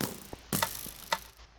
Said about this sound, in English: that is the sound of a disarmed tripwire